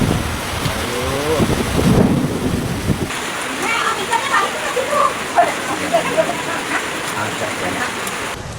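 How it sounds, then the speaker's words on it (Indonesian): Heavy rain pours steadily with rumbling thunder and gusting wind during a flood in Bandar Lampung, a dense continuous wash close to the microphone, with a low roll of thunder early on and scattered voices underneath. "Terjebak banjir lu, nggak bisa pulang dari tadi hujan deras banget."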